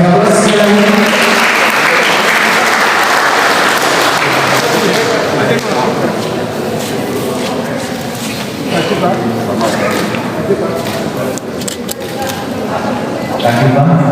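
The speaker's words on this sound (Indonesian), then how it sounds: "Kita beri aplaus sekali lagi" An audience claps loudly and steadily at a formal scholarship talk, the applause dense and sustained for the whole stretch, with a voice speaking over it.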